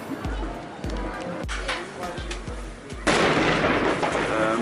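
Gun blasts in Oslo near a castle rampart: a series of deep, booming reports roughly every half second to second, each with a low thump and decay, followed by a louder sustained roar of noise; people talk faintly throughout.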